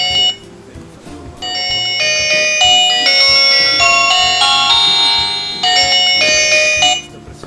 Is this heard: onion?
no